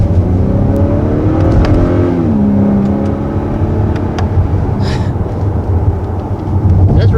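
A 2020 Honda Accord 2.0T Touring, its turbocharged 2.0-litre four-cylinder related to the Type R engine, accelerating hard from the cabin: a loud, continuous engine drone whose pitch climbs, dips briefly at a shift, then climbs again.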